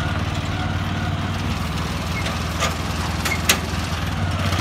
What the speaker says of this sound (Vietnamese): Đây các bạn thấy để chế độ garanti của động cơ nó đã chạy,